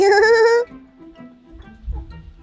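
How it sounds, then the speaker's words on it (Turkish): A calf on a farm calls out with a loud, sustained bleating cry lasting about half a second. Quieter rustling and low handling noises follow. "Burada buzağlar var."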